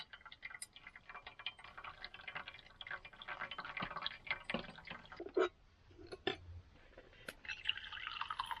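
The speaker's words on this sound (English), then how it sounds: "I'm using the Snow Peak collapsible coffee drip." Coffee drips through a Snow Peak collapsible coffee drip at a car campsite, soft irregular ticking drops and faint trickles, quiet and close.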